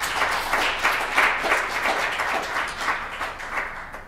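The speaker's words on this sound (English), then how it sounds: "let's give Bertrand a big round of applause" Audience applause for a speaker at a tech talk, a dense steady wash of many hands clapping that fades slightly toward the end, with no voices.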